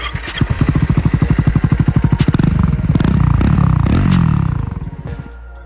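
A Triumph Scrambler 400 motorcycle rides off-road up close. It starts with a loud, rapid engine thumping, then revs higher and rises to a sustained roar before easing off.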